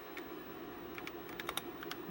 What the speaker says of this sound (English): Alright, so let's type